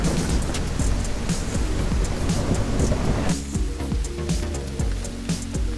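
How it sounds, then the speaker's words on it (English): Heavy rain pouring in the dinosaur survival game The Isle, a dense loud hiss with low thunder-like rumbling underneath, continuous throughout and shifting slightly in texture partway, with no voices. "in the cover of the noise of the rain"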